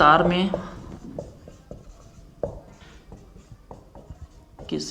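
Chalk scratching and tapping across a classroom board during a physics lesson, a run of short strokes and taps after a brief spoken phrase at the start.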